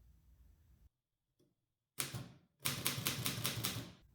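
Keys clatter in a fast, loud run on a 1927 Continental Standard manual typewriter, an old machine with many levers, after a few isolated strikes and a brief pause.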